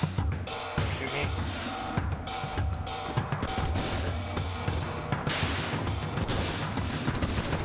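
Rapid bursts of gunfire from the top-down action game Ape Out crackle densely over a pulsing soundtrack, loud and nearly continuous with sharp individual shots cutting through.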